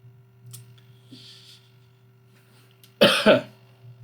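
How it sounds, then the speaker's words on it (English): A sharp double cough bursts out close by after a quiet stretch with faint clicks and a low hum. "That cough is really getting me."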